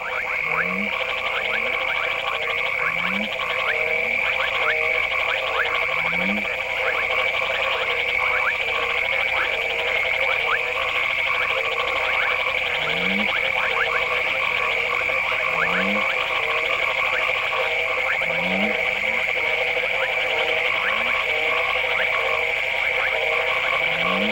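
Many male frogs croak at an African water hole on the first night of the rains, a steady, dense chorus of trilling calls with lower rhythmic croaks repeating every second or two.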